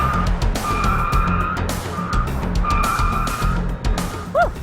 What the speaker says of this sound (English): I would get this BMW 530 up to a speed of 40 miles per hour, then try to avoid hitting the cones